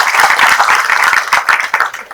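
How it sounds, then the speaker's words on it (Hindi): Loud audience applause at the Hindi Pakhwada event at NITTTR Bhopal, where a poet is the chief guest: a brief, close burst of energetic clapping with quick irregular hand strikes. "एक बार जोरदार ताली आप सबकी।"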